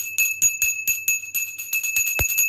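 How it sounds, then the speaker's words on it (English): Small hand bells shaken in quick rhythmic bursts, bright sustained ringing tones with jingly strikes repeating close by, with no voices. "Okay, so I have some bells."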